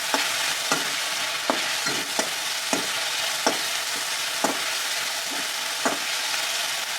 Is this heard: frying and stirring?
yes